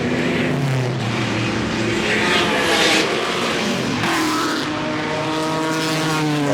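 A historic race car crosses the start-finish line at Goodwood's 75th Members' Meeting, a loud engine note that rises and falls steadily as it passes close by, with no talk over it.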